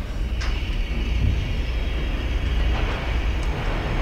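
Steady low rumble of a train in the video game Condemned: Criminal Origins, a continuous rolling rail drone with faint higher rattles throughout, no voices over it.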